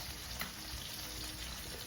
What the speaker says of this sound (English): we're browning the sausage to put into the spaghetti